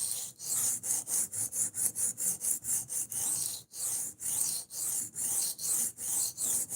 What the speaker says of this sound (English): I'd be sharpening this anyway